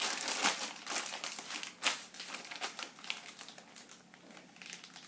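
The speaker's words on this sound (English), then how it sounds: "seal your bag up" Crinkly plastic rustles and crackles in short bursts as a zip-top bag is pressed to push excess air out and sealed, fairly faint and close, with no talking.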